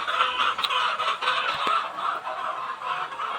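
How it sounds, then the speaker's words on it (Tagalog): Chickens cluck softly in a quiet, scattered chorus, a flock murmuring at moderate distance with no one talking. "So, yan yung mga manok namin."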